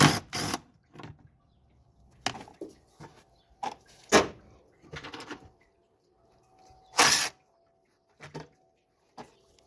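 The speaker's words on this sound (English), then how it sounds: "Okay, both 13 millimeter bolts are out." Metal tool work on 13 mm bolts at the radiator of an OBS Chevrolet C1500 pickup: a string of sharp clicks and clanks with gaps between them, close and fairly loud, and no talking.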